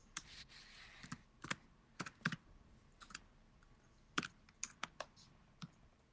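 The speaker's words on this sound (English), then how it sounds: "I'm just typing it in" Keystrokes on a computer keyboard come in uneven bursts of quick clicks with short pauses between them, close and fairly quiet, with no voices.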